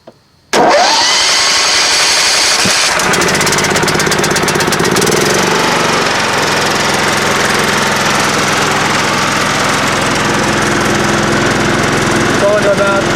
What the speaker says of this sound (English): So we'll go ahead and try to crank it over.